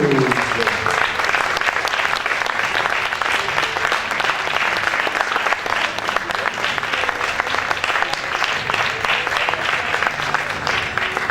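A pageant audience at the Miss Aisne 2020 results ceremony claps loudly and continuously for the third runner-up, with dense, sustained applause throughout and faint background voices mixed in.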